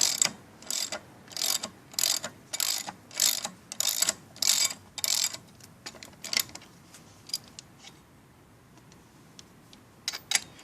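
A hand ratchet loosens lug nuts on a vehicle wheel with a rapid series of sharp, close clicking bursts in a steady rhythm, then sparser clicks and a few final ticks.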